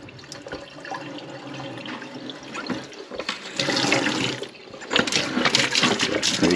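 Hot water gushes steadily from a kitchen tap into a sink, a loud continuous splashing rush that surges stronger partway through.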